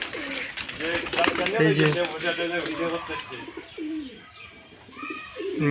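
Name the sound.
Giribaj pigeons cooing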